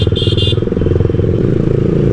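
Loud, throaty burbling exhaust note from a motorcycle fitted with a Leo Vince Cobra aftermarket exhaust, pulsing rapidly and continuously up close, with a brief higher whine near the start.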